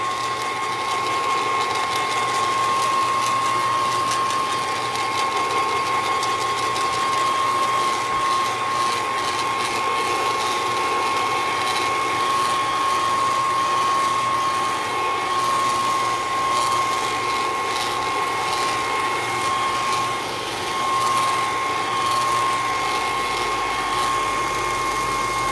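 Handheld dryer blowing steadily on faux skin, a continuous whirring motor hum with a high whine, loud and close, running unbroken throughout with no talking.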